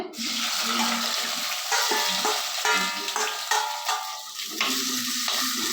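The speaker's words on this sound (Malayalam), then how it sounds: "എല്ലാം കൂടി ഞാൻ ഇട്ട് കൊടുക്കുന്നു വഴറ്റിയെടുക്കാനേ" Mango pieces, green chilli, shallots, garlic, ginger and curry leaves sauté in hot oil for a Kerala curry, a steady loud sizzle with scraping stirs running throughout, no voices.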